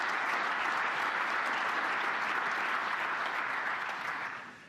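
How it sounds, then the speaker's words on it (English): Applause from a conference audience, a dense steady wash of many hands clapping that holds strongly and then fades out near the end, with no talking over it. "I hope that's not the last bit of applause that I get"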